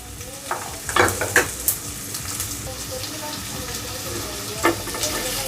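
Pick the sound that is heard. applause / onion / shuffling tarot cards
onion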